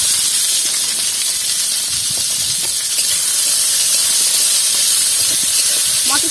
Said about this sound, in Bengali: দিয়ে তেলের মধ্যে আমি বিনসগুলো দিয়ে দেবো।